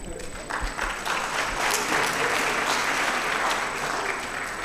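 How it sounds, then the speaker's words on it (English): At a Fulbright memorial lecture, students in the audience break into applause that builds to a dense, even clatter of many hands and holds steady for several seconds, heard at a moderate distance. "I could see that the applaud is mostly from the students."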